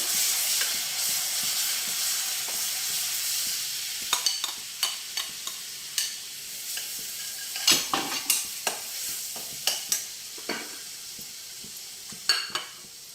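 Onion paste frying and sizzling in a pan for a mutton bones sherwa, a steady hiss punctuated by repeated scraping stirs and clinks of a spoon against the pan, close and fairly loud.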